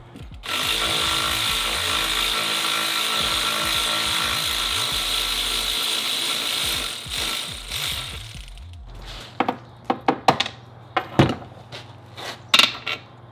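Ratchet loosening the upper and lower nuts on a Mercruiser outdrive, a steady buzzing whir of clicking pawls, then scattered short clicks and clanks of tools and parts near the end.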